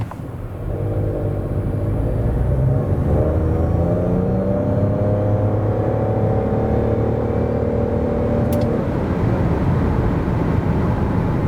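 Nissan Qashqai e-Power 2023 with a 190 hp hybrid system accelerating from 0 to 100 km/h, a steady loud cabin drone with rising engine and motor tones swelling over several seconds, with no talking.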